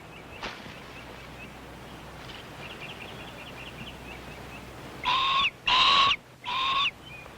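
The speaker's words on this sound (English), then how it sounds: "Hawk's here early this morning." A hawk calls in the open near a woodland cabin, a few faint cries early on, then three loud, drawn-out screeches in close succession near the end.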